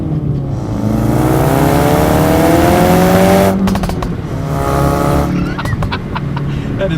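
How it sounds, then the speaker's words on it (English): A 2017 Ford Focus RS with a valved exhaust revs loud and close, its engine note rising and falling, then crackles with a burst of sharp exhaust pops and burbles as it comes off the throttle. "So the car makes all these really cool popping and burbling noises with the exhaust."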